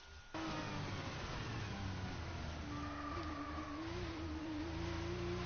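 An F1 car engine in the video game F1 2019 drones loudly and steadily, its pitch rising as it accelerates, continuous and close with no talk.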